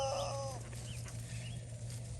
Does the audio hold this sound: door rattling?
no